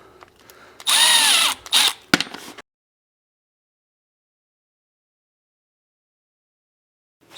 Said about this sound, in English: So you have to still keep unscrewing them to fully unthread them.